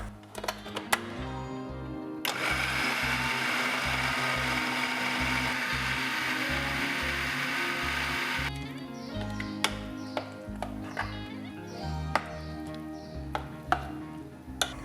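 Blender grinding coconut sambal with tamarind: loud, steady whirring roar for several seconds, framed by close knocks and rattles of the jar and lid before and after.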